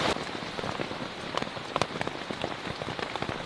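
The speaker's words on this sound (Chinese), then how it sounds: "怎么雨水还那么多呀？" Heavy tropical rainforest rain pours steadily and loudly, dense drops drumming on nearby surfaces with sharper splashes scattered throughout.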